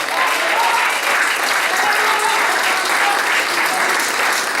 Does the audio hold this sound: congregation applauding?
yes